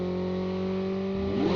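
A vehicle engine in Call of Duty Mobile hums steadily and then revs up, its pitch rising near the end, close and loud with no talk.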